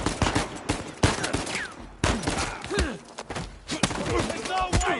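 Sniper rifle and other gunfire in an Uncharted 4 firefight, rapid loud overlapping shots and cracks with echoing ricochets, under shouted voices and chaotic combat noise.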